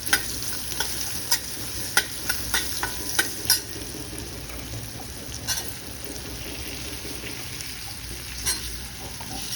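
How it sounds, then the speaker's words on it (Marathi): Dried red chillies, turmeric and raw mango pieces sizzle in a hot pan of oil, a steady close frying hiss broken by sharp scraping clicks of a big spoon stirring, with no talking. "त्यानंतर त्याच मोठ्या चमच्याने हळद आणि ह्या कैरीच्या फोडी घालते आहे."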